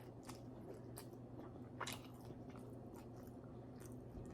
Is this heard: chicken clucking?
no